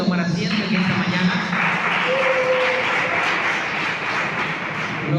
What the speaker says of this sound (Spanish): Con un fuerte aplauso puede tomar asiento en esta mañana.